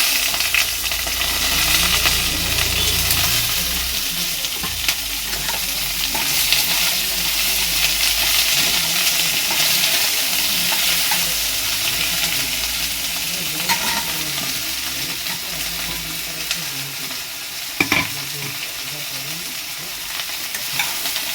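Beans of several kinds, chopped and whole flat beans, fry loudly in hot oil in a pan, a dense, continuous close sizzle with stirring scrapes and one sharp clink near the end; no talking.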